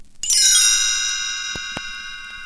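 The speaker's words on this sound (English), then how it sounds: "You will know it is time to turn the page when you hear the chimes ring like this." A single bright chime struck as a page-turn cue for a read-along storybook, ringing clearly and then decaying slowly, with nothing else behind it.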